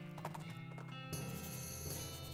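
Horse hooves clip-clop in the West of Loathing video game, a steady rhythmic patter mixed with game music and effects, with a change in the background sound partway through.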